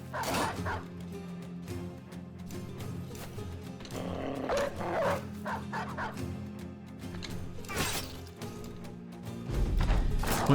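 A dog in a video game growls and barks in short repeated yips and snarls, mid-distance, running through the whole stretch amid game noise.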